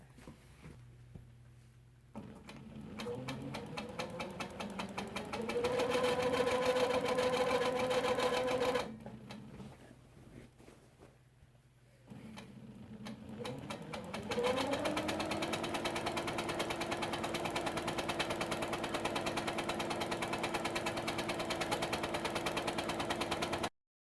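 A sewing machine free-motion quilts a double arch border, its needle chattering in a fast, steady whir that speeds up and slows down, stops briefly partway through, then runs on at a higher pace.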